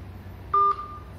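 A single brief electronic tone sounds as a phone call cuts off, clean and close against quiet line hiss, with no speech.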